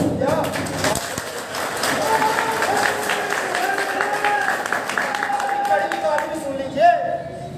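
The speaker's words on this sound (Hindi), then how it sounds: "अच्छी बात सुनी तो तालियां बजा दी" An audience claps through a public speech, with a steady patter of scattered applause and crowd murmur that carries on under a speaking voice for several seconds.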